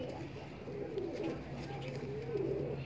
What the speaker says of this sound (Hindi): प्योर मियां साहब वाले कबूतर है ये